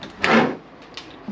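A big, deep kitchen drawer in a 2022 Grand Design 337RLS fifth-wheel trailer slides open with a quick rolling swoosh, followed by a couple of soft knocks.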